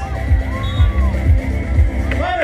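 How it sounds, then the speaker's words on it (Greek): A crowd at a 3x3 basketball tournament cheers and whoops in a steady, dense roar with scattered shouts. A voice is heard faintly through the noise. "Χειροκρότημα για τη Δήμητρα."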